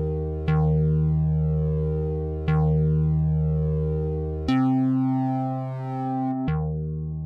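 Distorted synth notes clipping in Ableton Live, four loud sustained tones struck about every two seconds, each with a harsh, buzzy attack that slowly decays.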